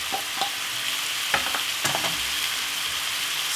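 Prawn fry-up being stirred in a pan with rice, a few scraping stirs and soft clatters over a steady low sizzle, close up with no talking.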